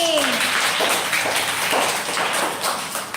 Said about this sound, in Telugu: big clap Nani